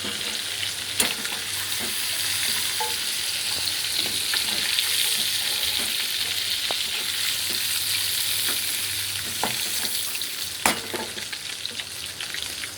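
Bay leaf and dried chili sizzle in hot oil with a steady, close crackling fry and sharp pops and stirring clicks scattered throughout, no voices.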